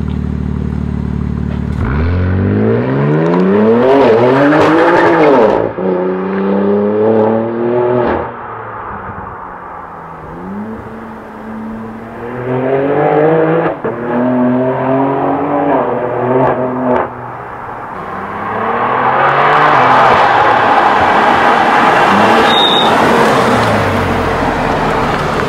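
BMW M4 fitted with a full straight-pipe exhaust launching hard several times, loud raw engine revving up through rising pitch sweeps, dropping off between pulls and roaring close by with crackle.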